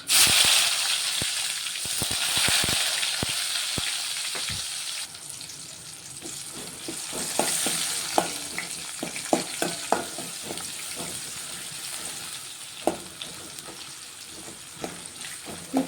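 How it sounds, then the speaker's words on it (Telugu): Onions sizzling and frying in a pan with asafoetida, a steady hiss with scattered sharp crackles and pops throughout, alone with no talk. "కొంచెం ఫ్రై అవ్వాలి ఇవైతే ఫ్రై అవుతున్నాయి"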